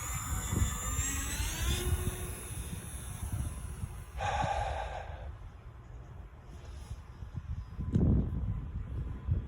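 An E-flite Air Tractor RC model airplane of about 1.5 m span revs up and takes off, a steady motor whine with a brief louder surge partway through, near and continuous outdoors with no talk.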